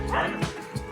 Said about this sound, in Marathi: कुत्री भुंकतायत.